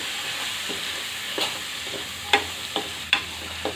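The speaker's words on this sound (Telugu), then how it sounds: "చిక్కుడుకాయలు మంచిగా ఈ విధంగా కలుపుకోవాలి." Broad beans being stirred in a pan over a faint background hiss, with a few soft scrapes and sharper clinks of the spoon against the pan, close and sparse.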